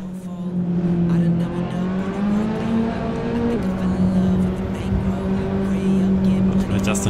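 A racing car's engine drones and shifts pitch through a Forza Horizon 5 race against a Toyota Supra, loud and continuous with the revs rising and falling between gears.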